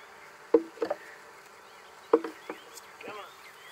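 Wild honey bees buzz around a swarm trap, a few sharp close bursts and passes standing out over a low steady background drone.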